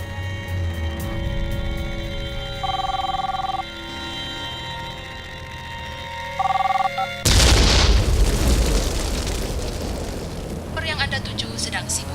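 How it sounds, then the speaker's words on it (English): A small bomb goes off at the American consulate as a sudden heavy boom, then a long rumbling roar with crackling debris. Before it, a steady hum is broken by two bursts of electronic tones. "all they can do is explode the small bomb at the American consulate"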